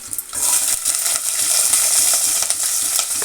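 Mustard seeds and cumin sizzle and crackle in hot oil for sambar, a bright, dense, close frying hiss with scattered pops running throughout.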